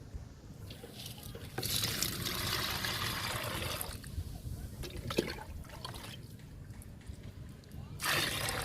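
Liquid plant fertilizer is stirred in a container, giving close, irregular sloshing and splashing with brief louder surges, a swirl near the start and a stronger burst at the end, all fairly quiet.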